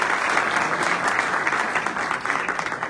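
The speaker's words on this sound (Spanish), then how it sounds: "Pues un aplauso también para Armando." Steady applause from a conference audience at a book presentation, dense and even throughout with no break, no voices rising above the clapping.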